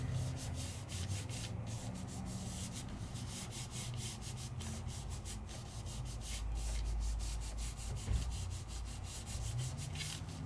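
Paper being rubbed by hand over its back onto an inked stamp with pigment ink, giving a steady scratchy rubbing that continues alone and close up for the whole stretch.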